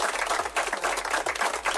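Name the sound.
played applause sound effect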